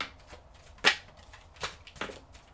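Tarot cards being shuffled by hand: a few quick riffling bursts and soft flicks over a quiet room, close and fairly faint.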